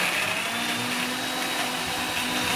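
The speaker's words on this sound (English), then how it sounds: "parsley, and milk in the blender." A kitchen blender whirs loudly and steadily, mixing celery, parsley and milk, with a constant high-pitched motor drone and no pauses.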